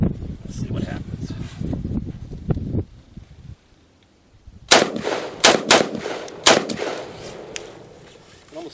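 A C93 Sporter rifle fires several sharp, loud shots on an outdoor range, loaded with Tula ammunition. The shots come in an irregular burst after a stretch of talking and a short quiet pause.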